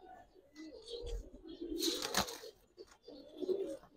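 Pigeons coo softly in a home loft of Giribaz high flyers, low murmuring calls repeating close by with a brief flutter midway and a faint voice in the background.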